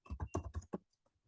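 Fingers type a short burst on a computer keyboard, about six quick close keystrokes followed by a few faint taps, quiet and alone.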